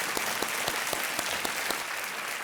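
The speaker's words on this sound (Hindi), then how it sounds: "तालियों के साथ इनका अभिनंदन" Studio audience applause on a quiz show, a steady broad roar of many hands clapping with a few sharper individual claps standing out, sustained and fairly even in level.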